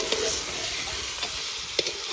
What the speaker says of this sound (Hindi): मीट को भी हम अच्छे से फ्राई कर लेंगे इन सभी चीज़ों के साथ